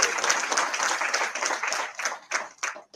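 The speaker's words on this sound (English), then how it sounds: "Please give him a round of applause and thank him for that." An audience at a speech event applauds, a dense burst of many hands clapping that continues steadily for about three seconds before thinning toward the end.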